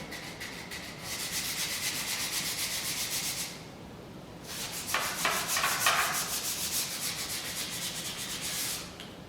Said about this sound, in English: This is a medium weight sandpaper I'm using.